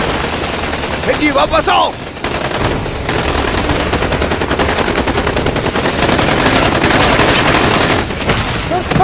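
Gunfire in a Hindi-dubbed action movie scene: continuous loud rapid automatic bursts fill the scene, with shouted voices over the shooting.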